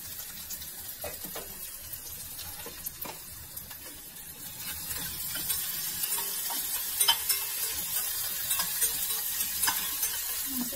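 Ginger garlic paste frying in oil for a chicken curry, a soft continuous sizzle with scattered light scrapes of stirring that grows slightly louder toward the end, with no voices.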